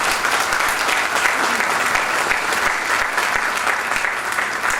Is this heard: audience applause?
yes